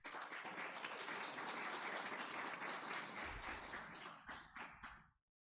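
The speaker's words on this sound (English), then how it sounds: "How about one more round of applause for Luke?" Sustained applause from a gathered crowd at a Board of Education meeting, honoring Luke; dense steady clapping for about five seconds that thins to a few scattered claps before ending abruptly, faint and distant.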